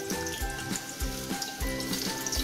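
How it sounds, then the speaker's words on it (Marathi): Sliced onions tipped into hot oil in a pan while cooking dry chicken sukka, giving bursts of sizzling and frying in three or four surges, close and moderately loud, with no talking. "आता आपलं तेल गरम झालं आहे, त्याच्यामध्ये आपण कांदा टाकून घेऊया."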